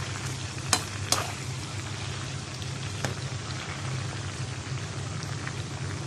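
Chicken pieces frying in hot oil for a curry give a steady, close sizzle with soft crackle throughout, broken by a few sharper pops and spatters near the start and middle, no voices.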